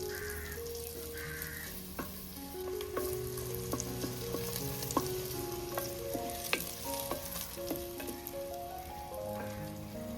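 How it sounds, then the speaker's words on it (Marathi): Onion frying in oil in a pan, a soft steady sizzle and a few light stirring taps, with crows cawing and background tones in a rainy outdoor setting. "कांदा शिजतोय"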